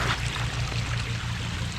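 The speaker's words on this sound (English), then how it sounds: "He's got a daggone creek coming out right there" Creek water flowing out of a pond on a homeowner's property, a steady close rushing and trickling with no voices over it.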